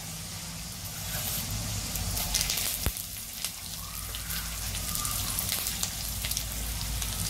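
Curry leaves dropped into peanuts roasting in a pan for Kolhapuri bhadang, giving a steady, close, hissing sizzle with crackly spatter throughout and no talking.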